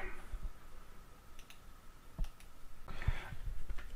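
A few soft, sparse computer mouse clicks sound close by in a quiet room while a Windows 8 licence agreement is accepted, with no talking.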